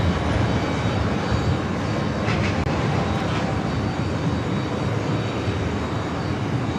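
Korean Air passenger jet passing at JFK: a constant broad engine roar, close and fairly loud, with a couple of brief brighter flickers near the middle and no speech.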